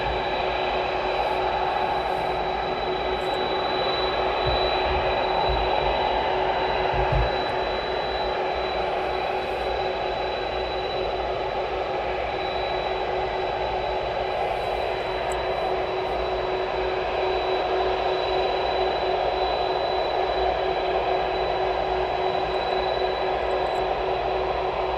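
Aircraft engines droning steadily at East Midlands Airport as a plane departs, a continuous broad rumble with a steady high whine, heard from a distance for the whole stretch without talk.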